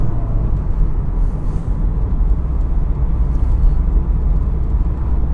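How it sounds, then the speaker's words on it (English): Citroën car on a test drive, a steady loud low engine and road rumble heard from inside the cabin while cruising in a straight line, continuous with no talk. "It drives nicely in a straight line."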